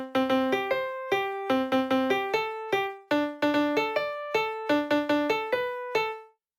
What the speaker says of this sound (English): when you go to listen to Super Mario World's soundtrack, the first section of the world map music hits you with